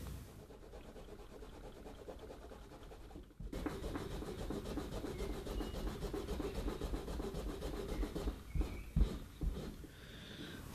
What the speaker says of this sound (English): I'm going to get some solvents and trying to clean up this gummy glue.